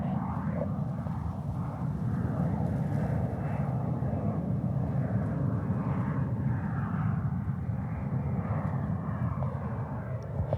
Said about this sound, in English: this plane is really doing a circle around us.